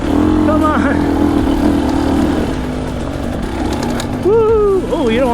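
A dirt bike engine holds a steady, loud drone in third gear on a narrow single track beside a river, with a rider talking over it throughout.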